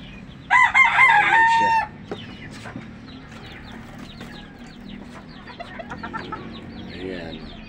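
A rooster crows loudly nearby at a farm feeding and watering spot, then chickens cluck and peep softly and intermittently in the background.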